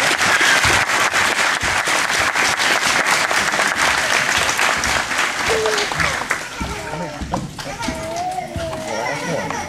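Applause at a kindergarten graduation at an elementary school, a burst of crowd clapping that fades after several seconds into chatter of children and adults talking.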